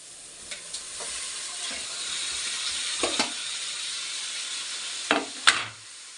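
Washed raw chicken pieces tossed into a pan of hot oil and masala for a chicken curry, a steady close sizzle with a few louder spatters and clinks of stirring, no talk.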